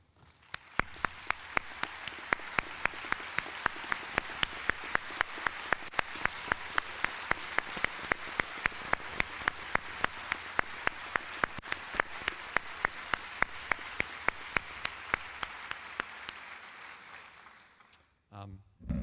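A seated audience at the 2009 Duke LEAF Award ceremony applauds the student video creators, giving a steady, dense round of clapping that holds for about seventeen seconds before tapering off abruptly near the end.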